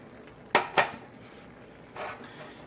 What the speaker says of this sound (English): And I'm adding my diced tomatoes